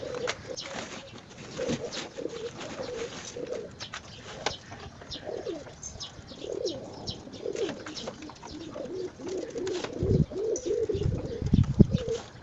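Pigeons in a loft coo and murmur continuously, with several birds overlapping in low rolling calls, occasional wing shuffles and chirps, and louder bursts near the end.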